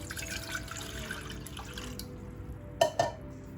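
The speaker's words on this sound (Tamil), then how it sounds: "500 ml தண்ணி போடுறேன்." Water pours steadily into a pan with a soft running, splashing sound, followed by a couple of louder clunks near the end.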